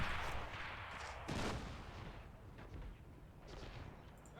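Mortar and artillery fire in the Men of War battle game, with a dull continuous rumble of distant explosions and one sharper nearby blast, the heavy fire rolling on throughout.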